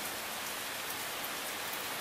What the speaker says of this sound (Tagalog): Ulan pa lang. May kasamang konting hangin.